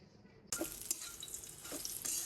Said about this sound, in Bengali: বিকালবেলা নুডলস রান্না করছি